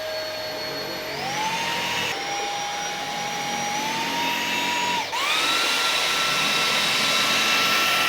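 Roborock H6 cordless vacuum cleaner runs with a steady high whine that shifts pitch upward twice as power modes change, loud and close with no talk.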